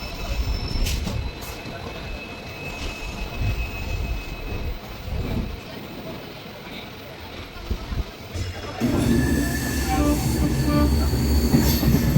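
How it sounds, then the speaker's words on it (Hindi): A passenger train rumbles and clatters along the rails with squealing wheels, departing Rameswaram railway station, then its noise swells louder and steadier as it gets under way; voices talk faintly throughout. "अब हमारी ट्रेन का डिपार्चर हो रहा है रामेश्वरम रेलवे स्टेशन से"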